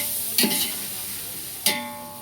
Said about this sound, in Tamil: அந்த பச்சை வாசனை போகிற வரைக்கும் நல்லா வதக்கணும் இஞ்சி பூண்டு பேஸ்ட்டை